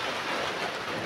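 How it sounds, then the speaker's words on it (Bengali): Heavy rain with big drops pounding down, a dense steady hiss close by, unbroken and loud throughout. "আর বৃষ্টিটা খুব বড় বড় ফোঁটা পড়ছে এখন।"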